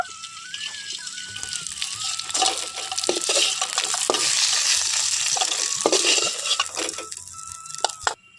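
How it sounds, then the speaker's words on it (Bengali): Steady frying sizzle of snakehead fish in mustard oil, with clattering and scraping in the pan, fairly close and continuous throughout. "মাছগুলোকে খুব ভালোভাবে ভাজা হয়ে গেছে"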